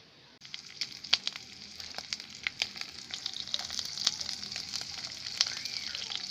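Dried fish frying in a pan gives a steady, close sizzle peppered with sharp crackling pops that grow denser as it goes on, with no talk.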